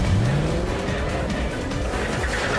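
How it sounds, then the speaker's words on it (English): Mercedes S-Class drag racing a BMW 760Li, heard from the Mercedes as a steady, loud engine roar with a rising pitch as it accelerates through the gears. "A drag race. I went in the Mercedes with Stig at the wheel"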